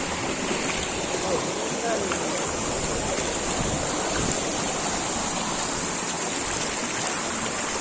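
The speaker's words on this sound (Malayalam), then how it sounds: "ഇത് മറ്റൊരു അരുവിയാണ്" Steady rushing of a cold mountain stream flowing over rocks on the Sathram–Pullumedu route to Sabarimala, loud and close, a continuous watery hiss without pause.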